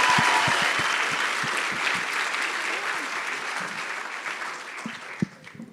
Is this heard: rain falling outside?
no